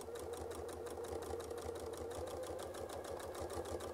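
A sewing machine quilts along a seam line, its needle chattering in a fast, steady rhythm over a low motor hum, close and uninterrupted, with no one talking.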